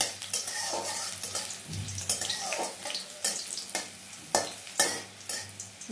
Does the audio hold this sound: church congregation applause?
no